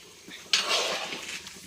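Soybean and chickpea curry is stirred in a pot, a scraping, clattering run of spoon against metal that starts abruptly, holds steady for about a second, then tapers with small knocks.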